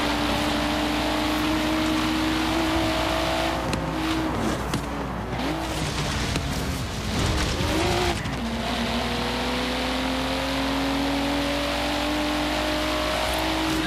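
A Nissan races in Forza Horizon 3 with a steady engine drone that rises and falls through gear changes. A burst of tire squeal and skidding comes midway, and the engine settles back into a constant high whine, with no talking.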